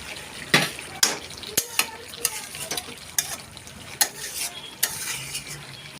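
Potatoes frying together with chicken in a pan, a steady sizzle broken by repeated sharp clanks and scrapes of a spatula stirring against the metal, close and moderately loud with no talking.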